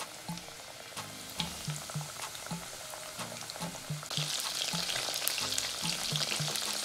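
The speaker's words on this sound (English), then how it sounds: "it's time for me to put in my French fry liver with my breadcrumbs on it" Breaded liver sizzles steadily in hot deep-frying oil, a dense close crackle with bursts of bubbling that grows louder and brighter partway through, with no talking.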